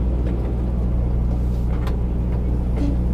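A vehicle rolls through a parking lot, its steady low engine rumble and road noise filling the clip without a break, heard close from inside a moving vehicle.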